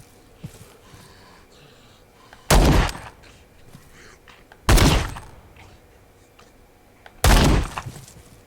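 Three loud gunshots from the Z.O.N.A: Origin video game, spaced a couple of seconds apart, each a sharp close blast with a short tail over a quiet background.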